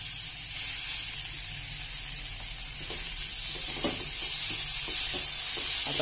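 Tomatoes sizzle steadily in a pan for mung dal, a constant bright hiss of frying, close up, with soft scraping and tapping of stirring growing slightly louder.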